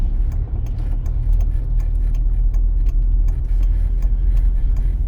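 A car pulls away in first gear and shifts into second on a driving-test route in Dnipro, heard from inside as a steady, low engine hum with faint clicks and rattles and no talking.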